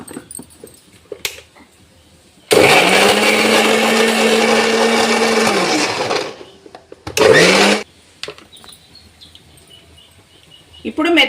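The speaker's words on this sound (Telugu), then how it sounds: "ముందుగా అయితే మనం ఈ ఫ్రూట్ను బాగా మిక్సీ చేసుకోవాలి" A mixer grinder blends mango pieces into paste in two loud whirring bursts, one long run of several seconds and a short second pulse, close up, with quiet kitchen sounds in between.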